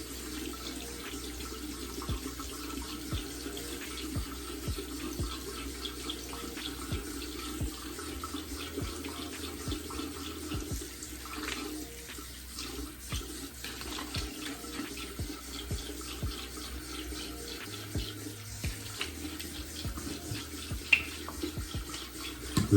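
Water runs steadily from a tap while a beard is rinsed, a continuous hiss and splash lasting the whole stretch with small shifts in flow and no voices.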